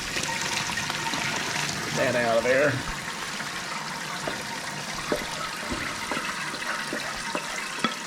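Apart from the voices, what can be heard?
cold tap water running into a colander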